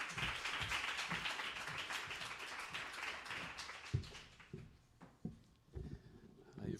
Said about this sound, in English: You should keep your applause.